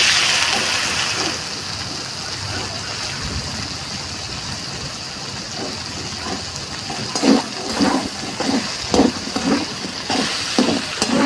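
Potatoes and tomatoes fry with a little Kashmiri chilli for a vegetarian ghugni. A continuous sizzle runs close by, and later a run of rhythmic scraping stirs comes through it.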